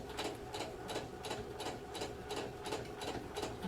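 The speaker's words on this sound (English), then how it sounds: "Just going to put in the top stitch, which holds it all down" A sewing machine puts a top stitch along a scalloped fabric noticeboard, running in a steady, evenly pulsing rhythm throughout, moderately quiet and close.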